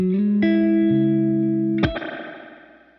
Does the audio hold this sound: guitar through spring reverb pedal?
yes